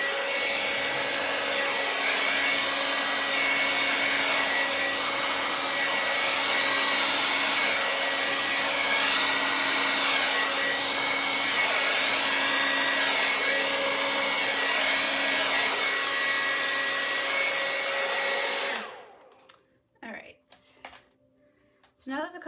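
A hair dryer blows steadily across fluid acrylic paint for a Dutch pour, a loud, constant whirring hiss with a faint tonal whine that runs unbroken for most of the stretch, then shuts off abruptly and leaves only a few faint knocks.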